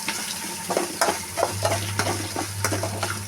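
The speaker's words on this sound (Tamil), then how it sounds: "வெங்காயம் இஞ்சி கருவேப்பிலை எல்லாத்தையும் சேர்த்து நல்லா வெங்காயம் நல்லா வதங்கணும்" Onion, ginger and curry leaves sauté in a pan, giving a steady close sizzle broken by repeated scraping stirs from a spoon, with a low hum running underneath and no talking.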